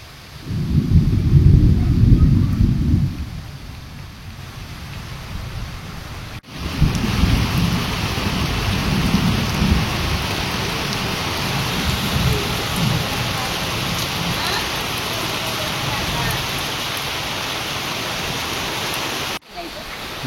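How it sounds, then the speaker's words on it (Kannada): Heavy rain pours down steadily with low thunder rumbling near the start and through the middle, loud and continuous, with a voice briefly speaking over the downpour. "ಮಳೆ ಬಂತ ಮಳೆ ಬತ್ತಲೆ"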